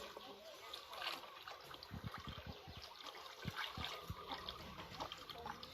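Small splashes and trickles come as a female paddy-field frog is let go into water, soft and close with an uneven rhythm, under someone talking.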